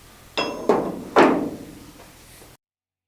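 Three sharp metallic hammer blows on a dented car body panel, spaced unevenly and ringing briefly, followed by a faint fourth tap, close and clear in a quiet workshop.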